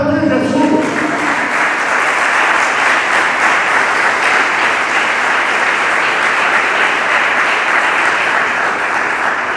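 A church congregation breaks into loud, sustained applause after a sermon phrase. The clapping swells within the first second, then holds as a thick, steady roar of many hands.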